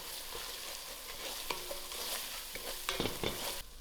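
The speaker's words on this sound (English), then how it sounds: "Give it a good mix." Mixed vegetable curry is stirred in a pot, with quiet, steady frying sizzle and intermittent scraping and clacking strokes of the spoon, a cluster of sharper knocks near the end.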